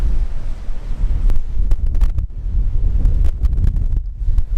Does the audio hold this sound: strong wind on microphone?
yes